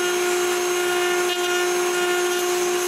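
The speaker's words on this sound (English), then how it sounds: "To chamfer the other end, I lower the bit and sharpen the other side." A power tool spins a bit chamfering the end of a wooden dowel, giving a loud, steady high whine with a strong constant tone that holds without pause for the whole stretch.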